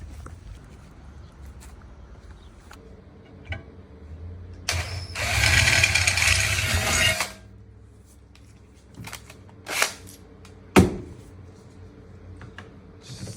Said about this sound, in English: Now we're going to drill holes first and then see where that lands us